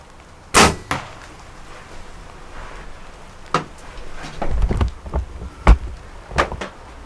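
A sharp, loud whack of an arrow striking a deer rings out near the start of an Ohio archery hunt, followed by scattered thuds, rustles and brief knocks across otherwise quiet outdoor ambience.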